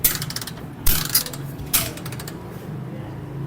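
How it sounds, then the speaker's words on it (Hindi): A motorcycle kick starter is kicked over with a finger held across the spark plug hole on a bike that has stood unused for a long time. Three sharp mechanical ratcheting bursts land about a second apart, each followed by a short whirring rattle. "यहाँ पे फिंगर रख के आपने किक लगानी है"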